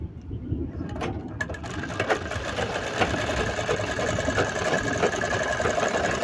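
A sewing machine starts up and stitches continuously, a close, steady mechanical whirring and rapid ticking of gears that builds within the first second and holds evenly to the end.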